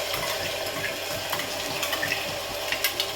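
Onion paste dropped into hot oil for village-style mutton paya, frying with a close, even sizzle and light bubbling, with occasional faint stirring.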